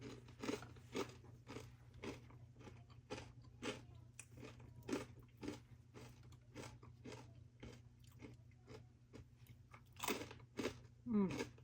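Close, faint crunching from chewing crisp buttered pickle beer bread, repeating in an irregular rhythm over a low steady hum.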